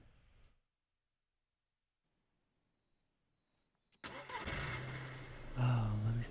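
A car engine in the DayZ video game starts abruptly after about four seconds of near silence, then settles into a steady, fairly loud running drone with a rising rumble near the end.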